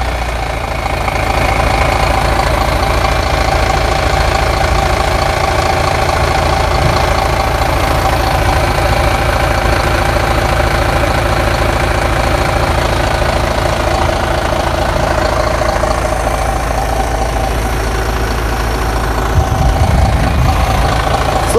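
A car engine idling steadily after ignition, a constant loud droning hum with a slight knocking texture and no change in pace, running alone throughout.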